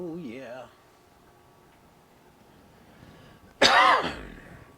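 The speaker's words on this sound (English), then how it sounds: "Sorry for the coughing." A person coughs in a chilly workshop with smoky air, one harsh burst of coughing near the end after a brief vocal sound and a stretch of quiet room tone.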